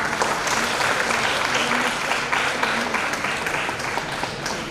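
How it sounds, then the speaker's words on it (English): Hall full of seminar attendees clapping, thick continuous applause at close range with steady loudness throughout and a faint murmur of voices underneath. "I am requesting all of you to congratulate them by giving big claps"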